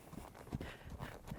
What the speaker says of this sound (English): So I'm just going to start in my working trot.